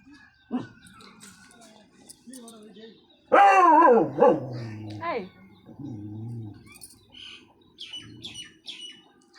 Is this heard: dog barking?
yes